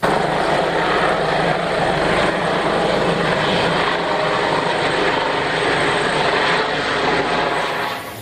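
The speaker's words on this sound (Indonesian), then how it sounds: "helikopter" Loud, constant helicopter rotor and engine roar, sustained close by throughout and fading slightly at the very end.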